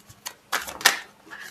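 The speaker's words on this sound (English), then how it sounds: "Let me shuffle again just one more time." Tarot cards are shuffled by hand in a few quick riffling and slapping bursts, close and fairly quiet, with faint speech around them.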